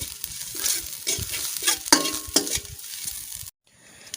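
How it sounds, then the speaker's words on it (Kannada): Grated coconut fried and stirred in a pan for Mangalorean-style masala avalakki: close scraping stirs over a soft sizzle, in uneven strokes that stop abruptly near the end, leaving a quiet hiss. "ತೆಂಗಿನಕಾಯಿ ತುರಿಯನ್ನು ಕೂಡ ಸ್ವಲ್ಪ ಹಸಿ ವಾಸನೆ ಹೋಗುವವರೆಗೆ ಚೆನ್ನಾಗಿ ಬಾಡಿಸಿಕೊಳ್ಳಬೇಕು"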